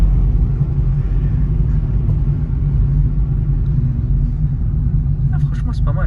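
Steady low rumble of road and engine noise inside a moving Renault Clio 4, continuous and close, with faint clicks near the end.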